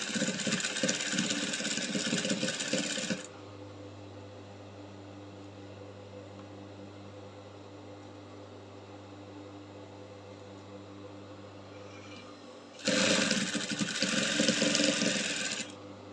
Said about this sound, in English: So I'll keep sewing till I get to the end